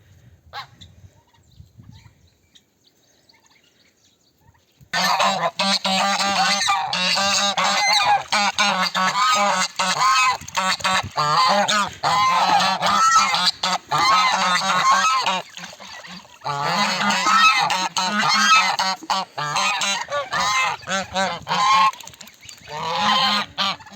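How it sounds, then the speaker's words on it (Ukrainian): A flock of geese honks loudly and continuously, overlapping calls close by after a few seconds of near quiet. "Гуси вже біля корита чекають."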